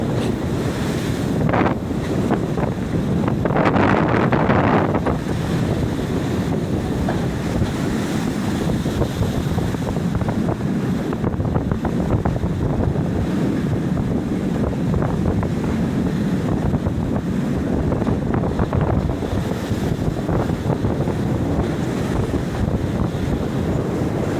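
Ocean waves surge and crash close to the shore in a continuous loud roar, with heavy wind buffeting the microphone throughout and a few stronger breaking swells rising above the wash.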